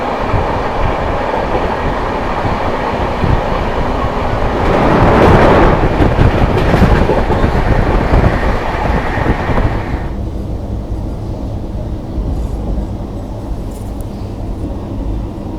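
Steady rumble and clatter of the 12286 Nizamuddin–Secunderabad Duronto Express running on rails, heard from inside a First AC coach, swelling louder for a few seconds midway before settling back to a lower, even roar.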